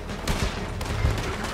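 Rapid gunfire in a video game, several sharp shots in quick bursts over a dense noisy background, with no talking.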